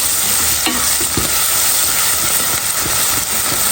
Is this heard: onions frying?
yes